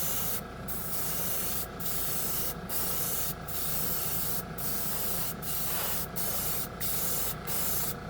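An airbrush sprays paint onto an old spoon, giving a continuous hiss that is broken by about ten short, regular gaps as the trigger is released. A compressor hums underneath, and no one speaks.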